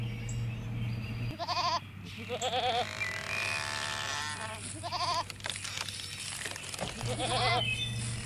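Several goats bleat in short wavering bursts, repeated about four times over a steady low hum, fairly close and clear with no talk.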